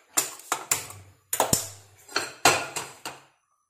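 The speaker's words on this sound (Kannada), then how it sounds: "ಒಂಜಿ ಬನ್ನಲೆ ಬೆಚ್ಚ ದೀಪೆ" A frying pan set on a stove while preparing motichoor laddu sweets: a handful of sharp metallic clanks and knocks, close and distinct, spaced irregularly with short ringing tails and no talk.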